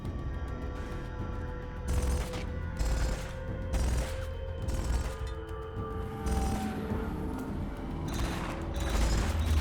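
Gunfire from the Awakened unit in Command and Conquer: Kane's Wrath, repeated rattling bursts and mechanical clatter mixed with other battle effects and low rumbles in a busy strategy-game skirmish.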